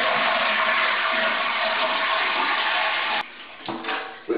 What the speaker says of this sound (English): finally having flushed all the water out of the tank, you are ready to begin step 1.